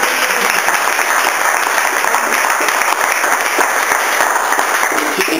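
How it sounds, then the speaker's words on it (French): A crowd at a basketball club gathering applauds a new recruit, dense and loud clapping that holds steady throughout. "on peut l'applaudir."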